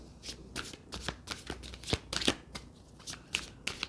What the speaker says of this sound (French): Je vais encore un petit peu mélanger les cartes.